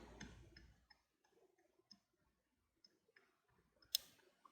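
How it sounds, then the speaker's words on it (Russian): Faint, sparse clicks come from an adjuster knob being turned on an intake manifold setup for an Audi 2.6 ABC engine, spaced irregularly in a quiet room, with one sharper click near the end. "Вот наши щелчки."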